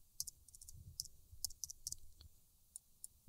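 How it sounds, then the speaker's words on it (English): A computer keyboard is tapped quietly as a password goes in, a short run of light, irregular key clicks with small pauses, faint and close with no talking. "I'm going to type in my password now."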